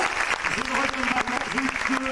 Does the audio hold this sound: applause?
yes